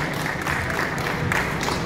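Applause at a product launch event, a short, even wash of clapping from an audience in a room, moderately loud and continuous.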